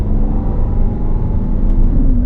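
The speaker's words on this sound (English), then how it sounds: "Massive V12 engine just behind me." A Lamborghini Aventador S with its 730-horsepower V12 mounted just behind the cabin hums steadily and loudly from inside the car, a continuous low rumble that climbs slightly near the end.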